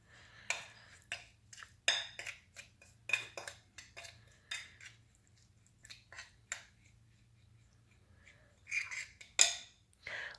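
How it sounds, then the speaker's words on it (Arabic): Garlic and oil are stirred together in a bowl for grilled fish, giving a run of faint, irregular scraping and clinking taps with quiet gaps between them. "نخلطوا الفاحات مع الزيت"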